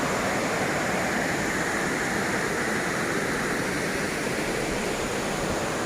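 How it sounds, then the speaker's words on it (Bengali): Camly waterfall in Dalat, Vietnam pours in a steady, even rush of falling water, a constant broadband roar heard close with no pauses. "এটাকেই এরা ওয়াটারফল বলছে বলে আবার টাকাও নিচ্ছে।"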